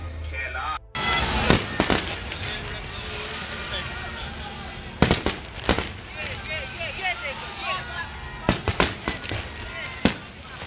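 Fireworks bursting during a Bundelkhand mass wedding procession for five brides on Mahashivratri, sharp loud cracks and bangs in scattered bursts over a busy, crowded background with drums and voices.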